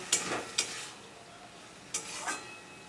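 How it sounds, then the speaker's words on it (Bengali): Chicken mince cooked with spices in a pan, a faint low sizzle with a few scattered sharp scrapes of a spoon stirring against the pan, no voices. "মশলার সাথে চিকেনের কিমাটা ভালো করে আমি কষিয়ে নেব"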